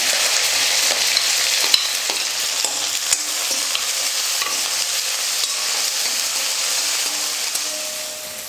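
Two large sliced onions hiss and sizzle steadily in hot oil in a South Indian kitchen pan, with intermittent scraping and clinking from a stirring spoon.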